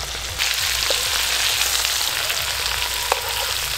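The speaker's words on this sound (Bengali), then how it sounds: "গরম তেলে দিতে চিংড়ি মাছ লাল হয়ে যাচ্ছে" Prawns fry in hot oil for a prawn malai curry, giving a steady, close sizzle and crackle that runs throughout, with a few sharper pops near the middle and end and no talking.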